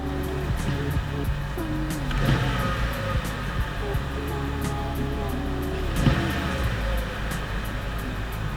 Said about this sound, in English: So we'll go ahead and give it some revs.